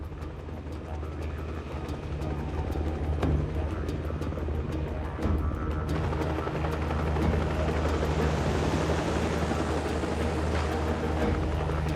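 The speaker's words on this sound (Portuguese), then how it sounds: "Os cowboys utilizam helicóptero para empurrar as vacas." A helicopter herds cattle on a huge Northern Territory ranch near Darwin, Australia. Its rotor keeps up a continuous broadband roar as a narrator speaks over it.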